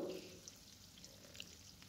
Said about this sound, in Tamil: இப்போ ஒரு பெரிய வெங்காயம் நறுக்கி சேர்த்துக்கலாம் சேர்த்து இந்த வெங்காயம் நல்லா வதங்கணும்